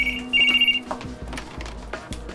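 Telephone ringing indoors in a television drama scene: a short electronic ring tone near the start, followed by a few faint knocks and clicks.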